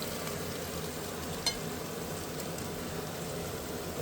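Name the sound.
masala spices frying in a pan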